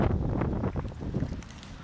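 On a windy day in an open park field, strong gusts batter the microphone with heavy, low, rumbling buffeting that stays loud throughout and has no speech over it.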